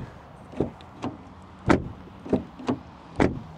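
The rear door of a 2023 VW Polo R Line gives six solid, dull thuds in an uneven rhythm, close and distinct against a quiet background.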